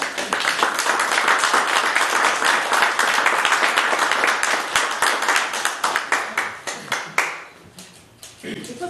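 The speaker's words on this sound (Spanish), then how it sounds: "fuerte aplauso" Wedding guests at a Las Vegas ceremony break into a sustained round of clapping, loud and close at first, then thinning into scattered claps as it winds down.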